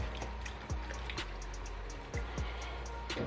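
Plantains being rinsed in water give soft trickling and scattered splashes up close, with a few sharper sloshes over a steady low hum.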